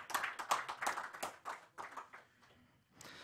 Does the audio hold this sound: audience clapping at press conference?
yes